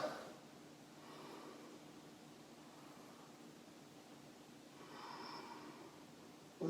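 Slow Ujjayi yoga breathing: two soft, hissing breaths close to the mic, one near the start and a longer one toward the end, faint over a quiet room.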